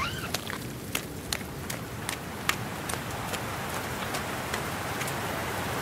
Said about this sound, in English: I mean, I knew that, but it's really raining.